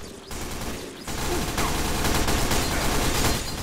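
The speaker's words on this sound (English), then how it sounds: "So much SMG fired." Rapid SMG fire in the video game Team Fortress 2, a dense, continuous rattle of shots that starts lighter, then thickens into a loud sustained burst with other game noise mixed in.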